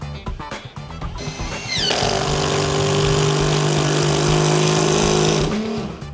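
A Bosch GDR 18V-220C cordless impact driver drives a screw into wood, rising from a few clicks and handling noises into a loud, sustained buzzing whir for several seconds before winding down abruptly near the end.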